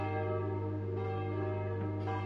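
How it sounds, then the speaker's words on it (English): A church bell rings in the video game Death End Re;Quest 2, a sustained rich tolling tone that hangs steadily and loudly, with a faint second strike near the end. "That's the church bell, must mean the bishop is back."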